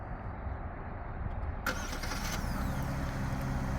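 A 2026 Genesis G80 3.5 Sport Prestige engine fires up on remote start from the key fob, a sudden crank at mid-clip settling into a steady, quiet idle.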